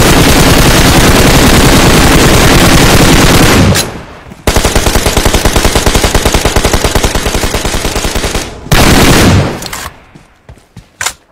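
Sustained machine-gun spray fire in a shooting video game, very loud and close, with long unbroken rattling bursts separated by brief pauses and a few trailing single shots at the end.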